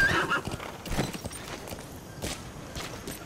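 Horse sounds in the Metal Gear Solid V: The Phantom Pain video game: a whinny near the start, then hooves clip-clopping in an uneven walking rhythm with a few sharper hits, close and moderately loud.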